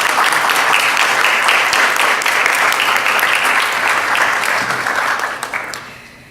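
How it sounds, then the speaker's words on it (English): An audience at a tribute honor session gives a chairwoman a round of applause, a full, steady roar of clapping that thins and fades out toward the end. "Let's give her a round of applause."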